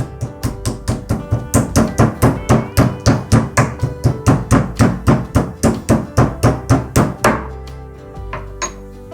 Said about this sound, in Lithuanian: Supjaustytą sprandinę reikia gerai išmušti plaktuku.